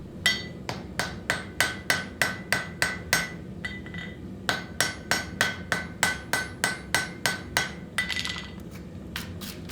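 Hammer blows on bright yellow-hot fluxed steel forge-welding a laminated axe, two rapid bursts of about a dozen evenly spaced ringing strikes each, close and loud, with a short pause between.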